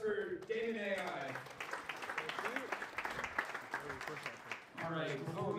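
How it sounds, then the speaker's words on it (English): Crowd applause fills the room for a presenter at a San Francisco startup pitch night, steady dense clapping with some cheering and voices mixed in throughout. "Massive round of applause for Damon AI."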